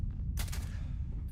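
A legendary laser pistol fires in Starfield, one brief bright zap over a low, steady rumble of game ambience.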